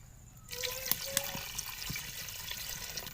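Water pours steadily into a pot of soaked rice, the start of a village-style beef pulao, a continuous splashing stream beginning abruptly and running close and fairly loud, with a few sharper splashes.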